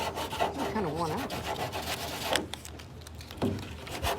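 Rough, rhythmic rasping of sanding against the hard body of a rusty 1959 Ford Galaxie, close by, in repeated strokes with a few soft knocks.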